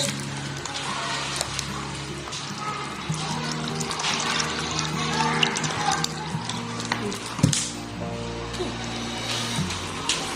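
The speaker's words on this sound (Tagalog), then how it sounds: "lagyan natin ng tubig" Water poured into a bowl of batter with butter while making puto banana, soft trickling and splashing close up over background music.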